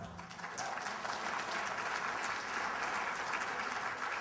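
Sustained applause from a conference audience at the 2010 Crystal Skulls Conference, a dense, even wash of clapping that holds steady and loud for the whole stretch, with no voices on top.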